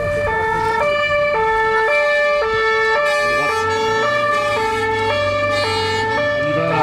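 A police car's two-tone emergency siren wails steadily and loudly throughout, with its alternating pitches close by during an urgent drive to a shooting near the station, road noise beneath it.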